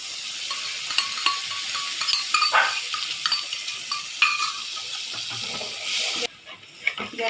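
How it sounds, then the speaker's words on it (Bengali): Curd poured into a pan over low gas for an okra curry, giving a steady frying sizzle with scattered clinks and stirring noises, close and moderately loud, with no talk. "এবার গ্যাসটা আস্তে করে দইটা দিয়ে দিলাম।"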